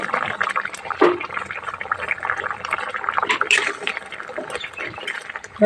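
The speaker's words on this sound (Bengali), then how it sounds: "জলটা ঝোলটা ফুটে গেছে মাছগুলো দিয়ে দিচ্ছি" Fish pieces go into a boiling curry broth in a home kitchen, with a close liquid bubbling and splashing and a sharper splash about a second in, with no talk.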